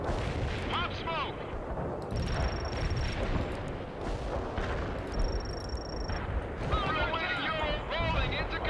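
Dense, continuous gunfire and heavy artillery from a World in Conflict battle rumble loudly throughout, with radio-style voices talking over the combat.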